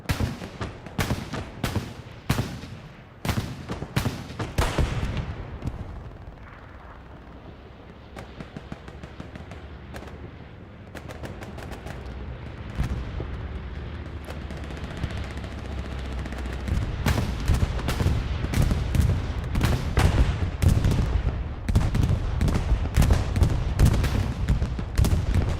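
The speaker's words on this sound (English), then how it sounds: "This bombing run should be right in front of us" Bombing run from an aircraft in Hell Let Loose on the Hurtgen map during a competitive match: a series of loud explosive blasts and gunfire crackle early, then a sustained rumbling roar of detonations and battle noise building toward the end.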